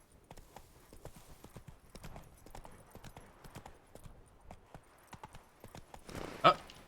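Horse hooves clip-clop in a steady running rhythm in The Witcher 3 video game, with a brief louder whinny-like burst near the end and no talking.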